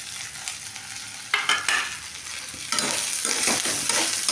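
Grated coconut tossed into a pan of frying shallots, a steady close sizzle with bursts of crackling and scraping stirring as the ingredients hit the hot oil; no talking.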